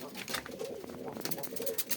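Soft, low cooing from domestic pigeons kept by a pigeon keeper, faint and repeated, with murmured voices in the background.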